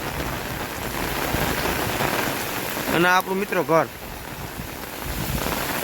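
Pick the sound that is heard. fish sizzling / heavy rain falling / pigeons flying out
heavy rain falling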